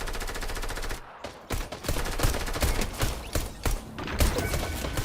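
Rapid gunfire from a first-person shooter video game played on a Rampage KB-R95 X-Titan keyboard: dense bursts of automatic shots and thuds filling the whole stretch, briefly pausing before resuming in clustered volleys.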